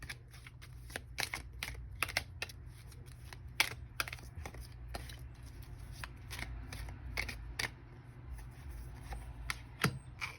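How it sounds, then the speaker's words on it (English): Tarot cards shuffled by hand, heard as a quiet, irregular series of crisp riffling snaps and slaps close by, with no talking. "Okay, let's shuffle with intention."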